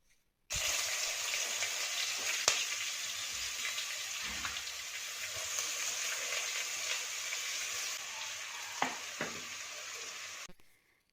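Crushed shallots and green chilies drop into hot coconut oil with fenugreek in a clay pot for Kerala sardine curry, bursting into a loud, steady sizzle that holds for about ten seconds with a few sharp crackles, then stops.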